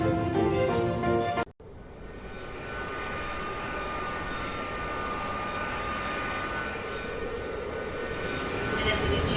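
A jet airliner arriving at Paris Charles de Gaulle airport, Terminal 2, produces a steady, broad engine roar heard at moderate distance, after a brief burst of music cuts off abruptly.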